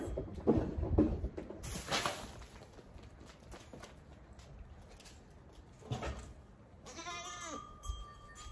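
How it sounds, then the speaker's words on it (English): Goats bleat intermittently nearby in a farm barn, a few wavering calls scattered among soft shuffling and faint clatter, with one longer quavering bleat near the end. "The goats milling about"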